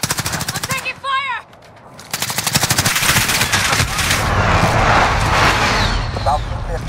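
Call of Duty Warzone gunfire: rapid automatic bursts hammer away loud and close, then a heavy, continuous barrage with explosions. A voiced game callout breaks in early on.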